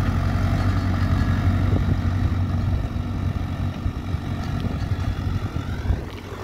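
A Sonalika DI 750 III tractor engine runs steadily while pulling a leveler in a field, a loud, continuous low rumble with a droning hum that stays close throughout.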